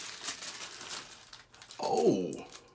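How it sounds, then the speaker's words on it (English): Tissue paper crinkles as a beard-products box is unwrapped, a brief close crackling rustle that rises near the end after quieter handling noises. "Wrapped in tissue paper as well."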